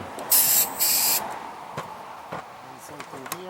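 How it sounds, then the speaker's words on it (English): Carburetor cleaner is sprayed into the idle circuit hole of a Kohler engine carburetor on a Toro Recycler mower, coming as two short, sharp hissing bursts up close, followed by light clicks and handling noises. "So same thing, spray it down the hole."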